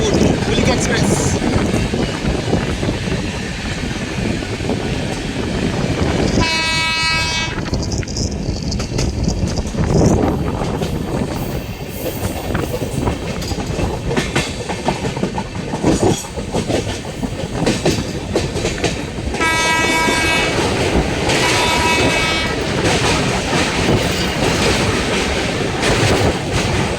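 Indian passenger trains crossing near Bardhaman, the Kulik Express from Howrah to Radhikapur passing the Sahid Express, with a continuous loud rumble and clatter of wheels, wind buffeting and brief horn-like tones, while people talk now and then.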